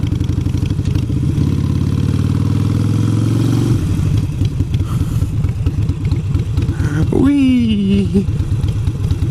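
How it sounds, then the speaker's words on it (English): A Sportster motorcycle rides in first gear with its engine rumbling loud and steady throughout, its pitch rising then dropping at a shift, and a brief squealing sweep near the end. "on the Sportster I'm in first gear right now and it's just nice and smooth"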